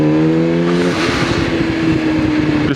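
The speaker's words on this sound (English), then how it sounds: "get away from these cars" Cars passing at a junction with unreliable traffic lights, a sustained engine tone giving way to a loud, close whoosh of vehicles going by; no talking.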